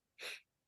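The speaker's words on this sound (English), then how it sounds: "So if you hear my dog sneezing in the background" A dog sneezes once in the background: a single short, faint burst with no talk around it.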